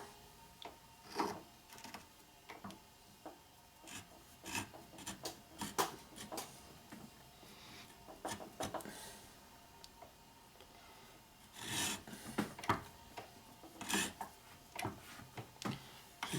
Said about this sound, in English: After you go in a couple turns, the tap will self-center pretty easily after that.